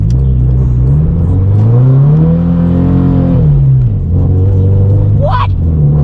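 A Subaru BRZ accelerates hard on fresh tires, its engine note rising steadily and then dropping back before climbing again, a loud continuous rumble heard from inside the car with a brief squeal near the end.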